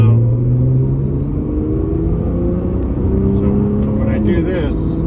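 Nissan GT-R R35 with GR6 transmission heard from inside the car while shifting gears: a steady loud engine drone with pitch rising and dropping on shifts, under continuous talk.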